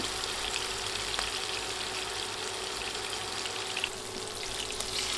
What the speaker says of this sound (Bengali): মাছের পিস তেলে দিয়েই নাড়াচাড়া শুরু করবেন না।